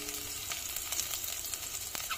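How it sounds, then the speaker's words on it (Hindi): Chopped garlic goes into hot oil with roasted cumin seeds and sizzles as a quiet, steady crackle with small pops, heard alone with no voices. "जीरा भुनने के बाद हम डाल रहे हैं लहसुन।"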